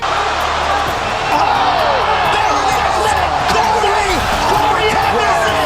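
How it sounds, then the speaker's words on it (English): Arena crowd at an MMA cage fight roaring steadily at a knockout, a dense continuous wall of loud cheering with whoops and slaps cutting through. "The crowd roared not for Walker's dancing"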